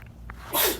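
A single sharp sneeze bursts out close by, loud and breathy, after a moment of quiet room tone.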